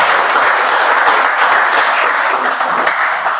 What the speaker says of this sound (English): I'm going to ask you to applaud again because that was very weak.